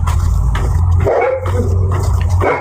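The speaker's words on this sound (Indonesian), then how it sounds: "Guguk sebelah tuh." A neighbouring dog barks repeatedly at close range, loud sharp woofs in an uneven rhythm over a low background rumble, with no one talking.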